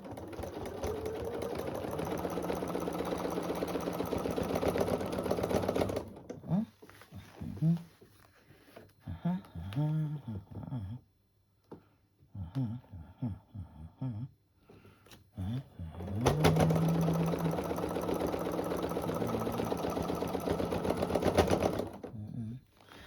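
A sewing machine runs fast, stitching fabric for a mini table runner. It makes two long, steady bursts of rapid whirring, with a person talking in the pause between them.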